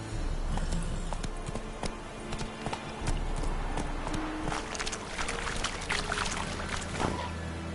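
Hooves of the horse Roach pound in a rapid, steady galloping rhythm in a video game, close and continuous over a constant background bed, with a few louder thuds near the end.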